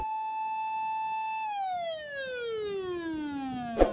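A toy fire truck siren sounds a steady electronic tone that then slides downward in a long wail, close and clear, ending with a short click.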